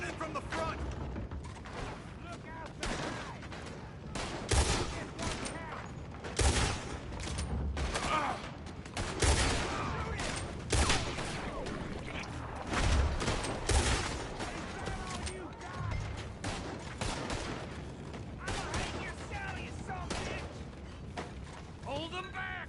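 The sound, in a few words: gunfire in Red Dead Redemption video game shootout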